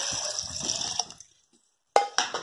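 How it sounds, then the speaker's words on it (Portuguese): Water poured into a blender over chopped roots for a homemade remedy, a gurgling splash that stops briefly, then resumes with a sharp splash and a few more bursts of pouring. "Aí eu vou colocar 1 litro de água"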